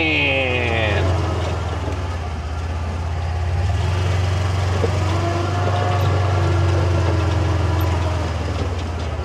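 A Kubota engine powering a portable hydraulic system rumbles at a steady low pitch, close and continuous, with a faint tonal whine fading in the first second and a slight swell in load midway.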